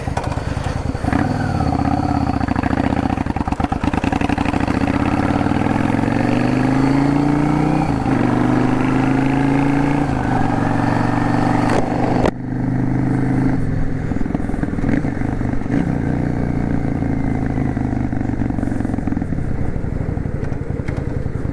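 A Yamaha V Star 650 Classic motorcycle rides through town: a loud, close engine drone climbs in pitch as it accelerates, with a gear change and a dip midway, then pulls on steadily.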